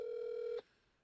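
A telephone rings on an outgoing call during a live NFL Draft broadcast, one steady electronic tone held loud for about half a second and then cut off, followed by near silence.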